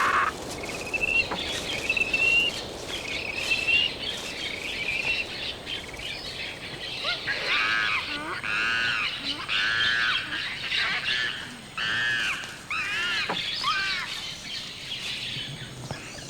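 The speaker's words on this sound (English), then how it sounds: "One of the greatest things about being in the Amazon is the sound of the birds, the sound of nature." Many birds call and chirp in a dense chorus in the Peruvian Amazon rainforest, with repeated warbling phrases and sharp whistles overlapping continuously, fairly close and loud.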